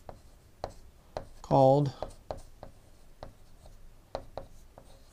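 Chalk or marker scrapes across a board in one short burst of strokes while someone speaks around it.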